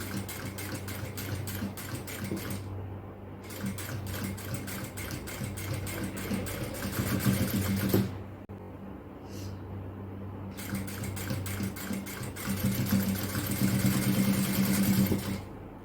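A sewing machine stitches piping onto a party-wear garment during tailoring alterations, running in long steady whirring stretches broken by short pauses, close and with no speech.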